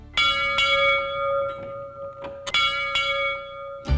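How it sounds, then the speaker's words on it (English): A school bell on the bluffs at Quality Hill tolls in clear, resonant strikes, about six or seven of them at an uneven pace, each ringing out and decaying into the next, with no voices present. "This bell echoed over the bluffs at Quality Hill, summoning the young students to school."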